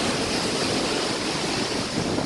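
Rough sea surging against the shore, a dense, steady roar of breaking waves and wash filling the whole stretch, close and loud with no voices.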